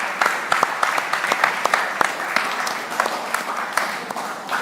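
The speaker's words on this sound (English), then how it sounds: "Clap for yourselves" Audience members at a mentorship session clap for themselves, a dense patter of many hands with a few sharper individual claps standing out, fairly close and steady throughout.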